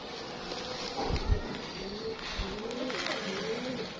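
Pigeons coo softly with low repeated calls while flocking to peck at brick grit, over steady outdoor background noise and faint rustling.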